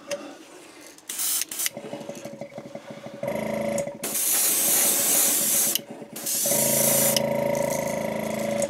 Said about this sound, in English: So a lot of times we spray from front to back.